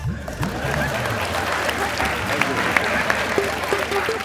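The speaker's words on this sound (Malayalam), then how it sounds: "തമാശകളായിരുന്നു പറഞ്ഞത് അതുകൊണ്ട് കൈയടിച്ചത്" Studio audience applause for jokes on a Malayalam TV comedy show, a dense steady clatter of many hands filling the room throughout, with a few voices faintly underneath.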